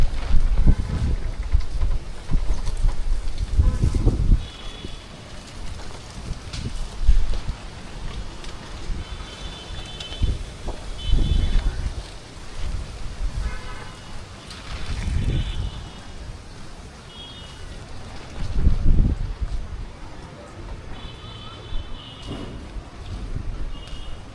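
Gusty Kalbaisakhi storm wind roars across a rooftop in surging waves of rumble and buffeting, with rustling debris and faint tonal whistles riding over the blustery noise.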